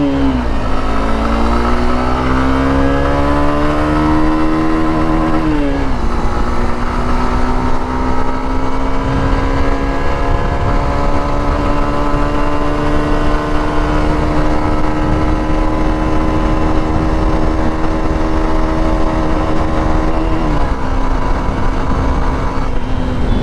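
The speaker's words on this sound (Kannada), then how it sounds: "ಈಗ ನಾವು ಒಂದು ರೈಡ್ ಹೋಗೋಣ" A Hero Extreme 160R motorcycle ridden on an open road gives a steady, loud engine drone with rising pitch through the gears and a few shifts, mixed with constant wind rush.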